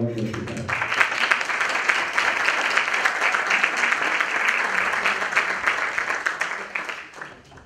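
A live audience breaks into loud, sustained applause for a singer, starting right after a brief voice and tapering off at the end.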